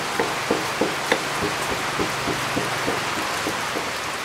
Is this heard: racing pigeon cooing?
no